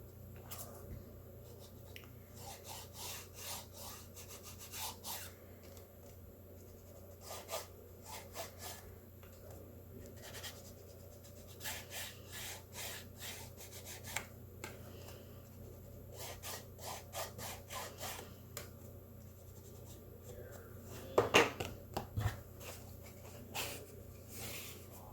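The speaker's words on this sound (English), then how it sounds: "So I'm going to go ahead and edge each of these piles" Edges of a Spiritsong Tarot card deck are rubbed and sanded after trimming, producing quiet repeated rasping strokes in irregular bursts over a low steady hum, close and faint, without speech.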